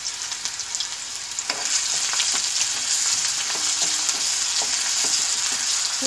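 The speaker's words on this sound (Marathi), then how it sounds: "थोडंसं परतून घेणार आहे मी" Chopped onion and ginger-garlic paste fry in hot oil, giving a dense, continuous sizzle that swells after the first second and holds steady, with faint scattered stirring ticks beneath it.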